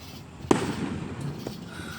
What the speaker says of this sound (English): Look, so much fireworks in there.